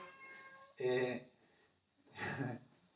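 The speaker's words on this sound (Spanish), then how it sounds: "El gatito está hablando de su lengua y dice que tiene hambre." A hungry kitten gives two clear, drawn-out meows about a second and a half apart, close and fairly loud against a quiet background, with no talking over them.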